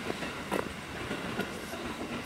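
Train at a small JR railway station on a commuter line, heard as a steady rumble of rolling cars with faint clickety-clack wheel beats throughout, fairly quiet and with no one talking.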